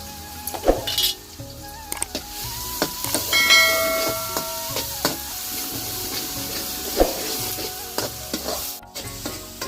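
Masala paste fries in a pan for a country chicken curry, a strong close sizzle punctuated by repeated scraping and clanking of a spoon stirring against the metal, with hissing steam swelling in the middle.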